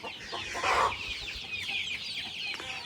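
Chickens cluck in a steady, close flock chatter, with one louder burst of clucking early on over a constant farmyard background.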